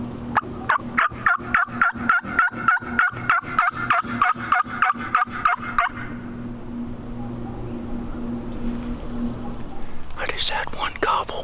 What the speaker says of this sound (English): Just had one gobble.